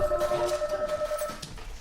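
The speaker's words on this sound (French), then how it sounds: "le téléphone sonne toute la journée" In a busy medical secretary's office, a telephone gives a short, steady electronic tone, partly covered by room noise and soft activity.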